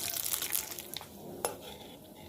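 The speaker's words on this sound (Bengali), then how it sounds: "পাঁপড়গুলো তেলে দিতেই দেখুন বন্ধুরা কত বড় বড় হয়ে যাচ্ছে" Rice flour papads fry in hot oil with a steady, close crackling sizzle, broken once midway by a sharp metallic clink of a utensil.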